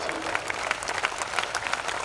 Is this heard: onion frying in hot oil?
no